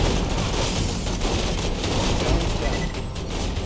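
Automated turrets in Borderlands 3 firing continuously, a dense, loud stream of rapid gunfire and blasts that holds steady throughout with no pauses.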